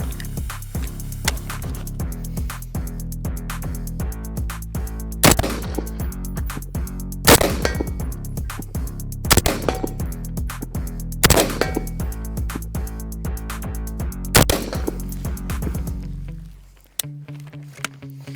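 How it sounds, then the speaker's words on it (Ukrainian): Repeated shots from a Haenel MK 556 5.56 carbine ring out at a steady pace, sharp loud cracks with echoing tails, ending abruptly before a brief quiet hum. "зброя стріляє м'ягко"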